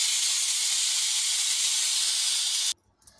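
A pressure cooker whistles while drumstick and potato sambar cooks in it, a loud continuous hissing jet of steam that cuts off abruptly, leaving near silence with faint kitchen noises.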